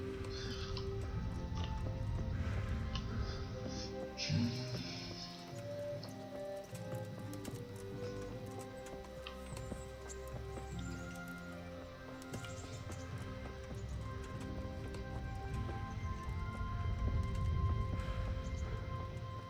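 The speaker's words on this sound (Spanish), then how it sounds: "Este caballo puedo robarlo" Horse in Kingdom Come: Deliverance, with soft hoof clip-clops scattered under steady rain-like ambience and background game music, faint throughout.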